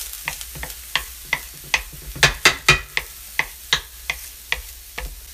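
Vegetables for stuffed acorn squash being stirred in a hot pan, with a spoon scraping and tapping about a dozen times in an uneven rhythm over a faint background sizzle, close and fairly loud.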